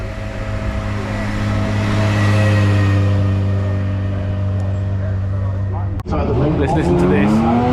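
A vintage Lagonda climbs a hill-climb course, its engine holding a steady, droning note at close range before the sound shifts sharply near the end as the car passes, with someone talking over it.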